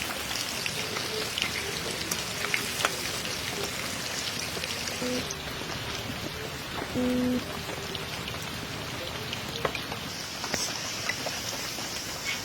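Popcorn frying over very low heat in a pan until crisp, giving a steady soft crackle and patter like light rain, with a few faint clinks, heard close and continuous.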